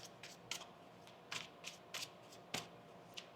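Tarot cards being shuffled on a table, a series of crisp riffling bursts in an uneven rhythm, close and fairly quiet with no talking.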